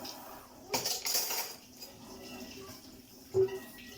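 Dishes and cutlery being washed by hand at home, with soft clinks, running water and a sharper clink near the end, fairly quiet and close.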